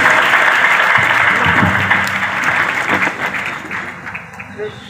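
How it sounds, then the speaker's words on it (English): Audience applause at a ceremony in Poonch honouring a student who placed third in Jammu and Kashmir's twelfth-grade exams: loud, sustained clapping from a crowd that slowly tapers off, with some voices mixed in. "A big applause from the audience."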